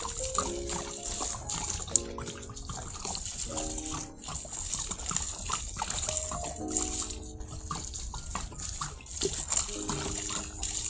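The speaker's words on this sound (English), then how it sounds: "Putting some water on this compost." Water trickles and splashes steadily onto loose compost in a compost bin, with low thuds and scattered tonal background noise, no speech.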